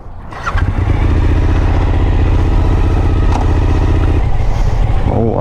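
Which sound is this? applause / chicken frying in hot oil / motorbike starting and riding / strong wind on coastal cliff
motorbike starting and riding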